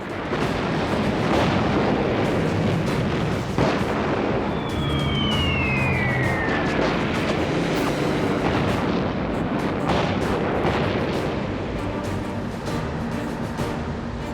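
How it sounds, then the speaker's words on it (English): Aerial bombardment and shelling in the Pacific war campaign, heard as a dense continuous roar of explosions and rumbling blasts, with a descending whistle of a falling shell or plane midway, loud and close throughout. "Cartwheel begins with intense aerial bombardment and shelling."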